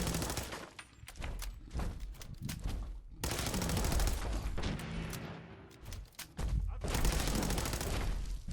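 Rapid gunfire in Fallout 4, loud bursts of automatic and repeated shots in close succession, broken by brief pauses and dense sustained volleys over several seconds.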